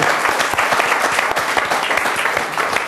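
Enthusiastic applause from a live audience at a café talk event, dense steady clapping that fills the space without pause.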